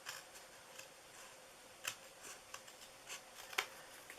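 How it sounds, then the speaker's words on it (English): Scissors trimming a piece of card into a birthday card panel, a series of faint, quiet snips and crisp cuts spaced irregularly, with a few slightly sharper clicks standing out near the end. "so then trim that piece off, and this little bit on the bottom"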